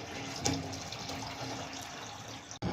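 Water runs into an old Chevrolet Fleetmaster fuel tank with a hole cut in its top, a steady, close rushing and splashing fill that stops abruptly near the end.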